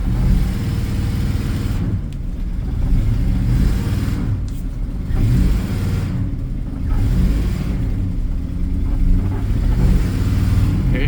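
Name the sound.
1977 Dodge car engine driving under its own power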